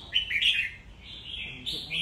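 A songbird sings in a bird-singing test, with quick, bright, high-pitched chirps and warbling phrases in uneven bursts, close and moderately loud against faint background noise.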